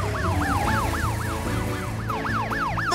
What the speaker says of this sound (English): The sirens say, help's on the way!